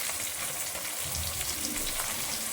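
Half of a chopped onion sizzles in a pan while chicken is being prepared Kerala style, a steady crackling fry, close and continuous with no talk.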